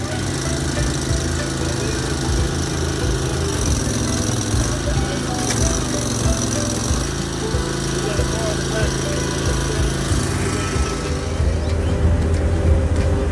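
A Partner concrete saw's small petrol engine runs loud and steady at a rental shop, a continuous buzzing drone with no pauses.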